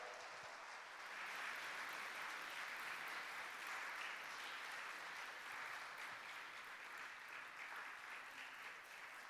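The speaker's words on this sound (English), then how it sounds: "please give her a big round of applause" A studio or event audience gives a sustained round of applause at a horror games awards show as a game developer comes up to present, steady and full-bodied clapping for about nine seconds with no speech over it.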